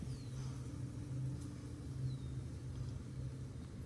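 The inverter coolant water pump on a 2004-2009 second-generation Toyota Prius runs as a steady low electric hum and whir, close and continuous, under a faint broadband background rumble.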